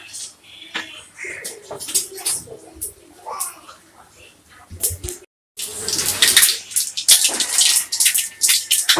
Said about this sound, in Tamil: கொஞ்சமா கடுகு, கொஞ்சம் வெந்தயம் எல்லாமே போட்டுருக்கேன். நல்லா பொரிஞ்சு வரட்டும்.